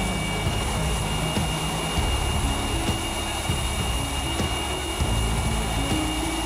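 F-22 Raptor stealth fighter jet engines roaring continuously, a dense, loud rumble with a steady high whine layered above and no speech.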